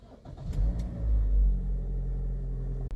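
A Toyota Corolla Grande engine cranks and fires up, settling into a low, steady idle rumble heard close by with no talking.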